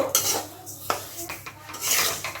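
A spoon scrapes and stirs dalia (cracked wheat) dry-roasting in a pan without oil, giving close, repeated scraping and grainy rustles with light metallic knocks.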